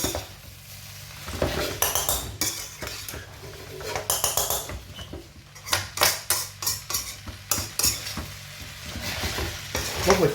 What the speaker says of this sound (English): stir frying the old noodles